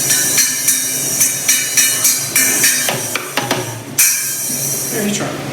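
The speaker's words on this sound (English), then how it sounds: "Let's hear this cymbal." A cymbal at a jam session is struck repeatedly in an uneven, fairly steady rhythm, each hit a bright metallic crash with a short ring, close and loud, with scattered extra knocks near the end.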